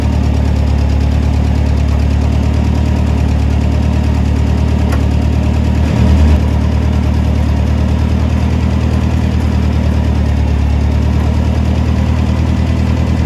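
A forklift engine runs steadily at a loud, constant idle-like drone while lifting a car door, with a brief mechanical knock or clunk midway and no one speaking.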